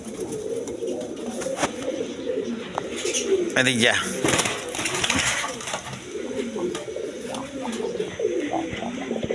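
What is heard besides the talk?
pair of Indian Bombay pigeons cooing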